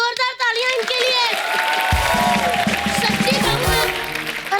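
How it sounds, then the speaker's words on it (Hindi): A studio audience on a comedy show bursts into loud, sustained applause and cheering for guest Bobby, dense clapping filling the room for several seconds with a crowd roar beneath it. "बॉबी जी, जोरदार तालियां इनके लिए"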